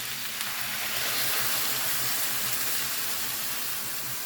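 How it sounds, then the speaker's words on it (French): White wine hits a hot pan to deglaze it while cooking beans with tomato and chorizo, giving a loud, continuous sizzling hiss that stays close and steady, with no voices over it. "Maintenant, je vais déglacer au vin blanc."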